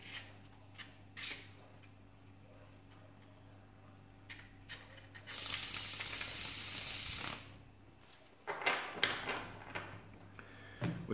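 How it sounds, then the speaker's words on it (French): White Flight tarot cards being shuffled by hand, with scattered riffling and tapping of the deck and one longer stretch of steady rustling, close and quiet, without speech. "Excusez-moi, je coupe bien parce que voilà, c'est la première fois, donc il faut que les cartes soient bien mélangées"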